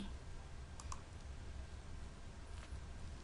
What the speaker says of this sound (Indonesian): kita ketik di sini